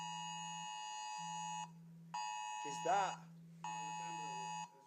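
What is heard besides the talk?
Amber Alert sounding on a mobile phone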